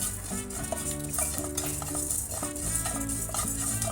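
Two spoons of cumin seeds dry-roast in a pan for tomato pickle while a utensil scrapes and stirs them, giving a busy, close rattling scrape over faint sizzling, with steady music playing underneath.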